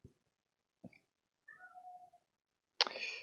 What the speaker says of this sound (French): Il y a mon chat qui miaule.